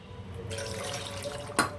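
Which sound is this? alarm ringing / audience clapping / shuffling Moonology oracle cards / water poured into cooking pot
water poured into cooking pot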